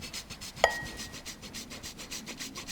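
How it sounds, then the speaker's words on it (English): A block of Parmesan cheese is rubbed against a grater in a quick, even rhythm of close scraping strokes, with one sharp clink of metal early on. "Now we're gonna go ahead and grate 1/2 cup of Parmesan cheese."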